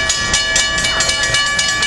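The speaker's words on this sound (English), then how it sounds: "here comes this train" A train passes close by at a Southern California rail line in San Juan Capistrano, giving a loud, steady rumble with rhythmic clacking bursts and a tonal ringing edge throughout.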